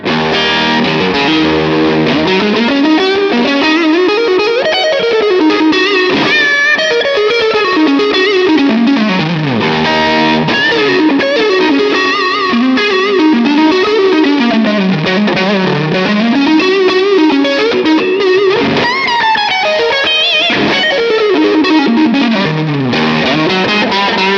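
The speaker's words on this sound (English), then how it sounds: "let's hear some neck pickup tones" A Fender YJM Stratocaster electric guitar played through its neck pickup with heavy distortion and effects, loud and continuous, with fast, sweeping lead runs and bends going on throughout and no voices.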